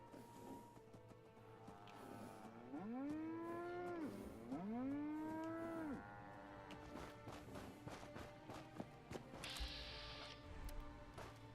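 A cow moos in Fallout 4: two long, loud, drawn-out bellows in a row, set against a steady game background hum with scattered clicks and mechanical sounds.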